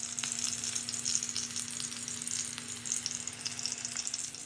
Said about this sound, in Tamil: இப்போ வந்து நான் வந்து மீன் ஃப்ரை பண்ணிட்டு இருக்கேன்